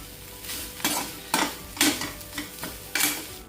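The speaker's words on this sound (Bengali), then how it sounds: "আর কোনো সবজি নেই, কি করব, তো সেই জন্য এই যে আলু আর করলা ভাজছি।" Potato and bitter gourd frying in mustard oil in a pan, a steady soft sizzle broken by rhythmic stirring scrapes about every half second, close and fairly quiet.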